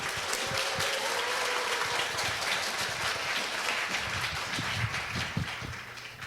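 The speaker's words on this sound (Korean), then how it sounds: "우리 나오실 때 우리 힘찬 박수로 환영하시고" An audience applauds steadily to welcome a visiting professor before a lecture at a church gathering, the clapping dense and sustained for the whole stretch with no talking.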